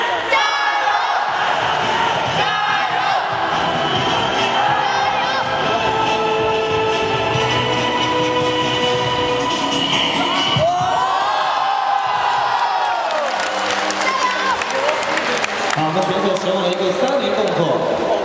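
A crowd at a freestyle slide skating championship final cheers, whoops and applauds loudly, with an announcer talking over the noise throughout.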